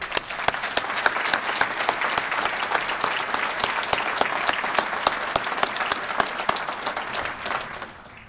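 An audience applauds during a county executive's State of the County address, a full, sustained wave of clapping with sharp individual claps standing out, fading slightly at the very end.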